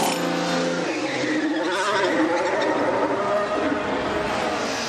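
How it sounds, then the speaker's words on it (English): Formula 1 race car at the 2022 Italian Grand Prix entering the pits, its engine note dropping and shifting with a brief tyre squeal, under a commentator talking. "But Max Verstappen into the pits."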